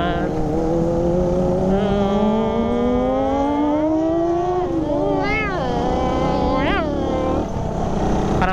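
Kawasaki Ninja ZX-4RR inline-four motorcycle engine revving hard, rising and falling in pitch with sharp throttle blips, loud and close throughout the clip, with no talk over it.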